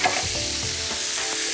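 A floured cod fillet fries in butter in a pan, giving a constant loud sizzle with faint stirring or scraping touches, no voices over it.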